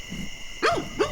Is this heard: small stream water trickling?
no